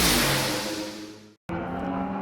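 Race cars in the first Yokohama MPC race thunder down into turn 1 at Pukekohe, a loud, dense engine roar that briefly drops out before resuming with revving and passing engine sound.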